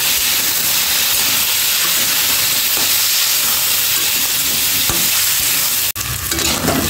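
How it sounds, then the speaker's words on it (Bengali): Winter vegetables for khichuri fry in a pan: a loud, close, continuous sizzle with stirring scrapes, then a sudden shift in the hiss near the end. "সবজিগুলি ভাজা হয়ে গেছে"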